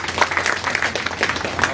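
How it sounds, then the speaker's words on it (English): An audience claps at a valedictory address, dense and fairly close applause with rhythmic bursts over a steady background. "a big round of applause to"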